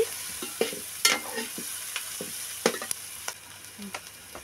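Mutton for a cucumber curry fries in oil with a soft, faint sizzle, and a spoon knocks and scrapes the pan in scattered strokes; no talking.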